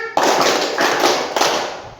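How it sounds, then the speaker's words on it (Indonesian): A group, likely schoolchildren, claps in a counted classroom clapping routine; loud, dense clapping fills most of the span in rhythmic bursts. "Tepuk lagi. Tepuk dua. Tepuk tiga. Tepuk empat. Tepuk lima."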